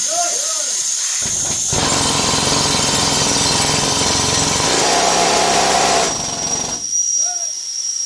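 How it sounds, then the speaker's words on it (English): At a small-scale gold mine, a power drill bores into rock in a loud, steady, rattling roar lasting about five seconds, with brief voices before and after. "Drilling."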